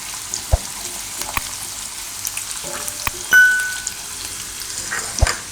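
Green turmeric and vegetables stirred in hot oil in a pan, making a soft steady sizzle with sparse utensil knocks and a brief ringing clink.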